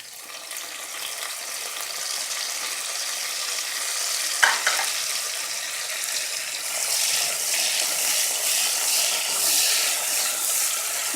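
Tadka sizzles steadily in hot ghee in a home kitchen while coriander is stirred in for Punjabi sarson ka saag, a soft continuous hiss with one brief clatter near the middle.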